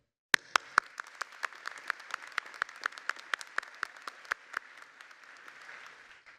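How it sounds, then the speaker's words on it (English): Applause at a college commencement ceremony: a small crowd claps steadily with a few sharp individual claps standing out, fairly distant, then thins and fades after about five seconds. "I want to start this with a round of applause for you, because you did it."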